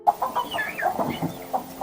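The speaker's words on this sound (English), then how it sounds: "In a subsequent try, the fox successfully grabs a hen and bites it." Agitated hens clucking and squawking inside a hen house under attack by a fox, a rapid series of sharp, nearby calls over about two seconds.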